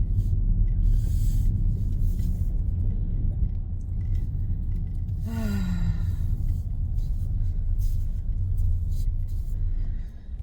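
A small roadster's engine rumbles steadily while driving, a low continuous drone with road noise, briefly joined by a short rising squeak midway.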